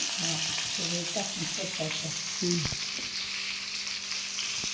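Okra hissing as it fries in oil with asafoetida and mustard seeds for a village-style masala, a steady sizzle under a voice talking nearby.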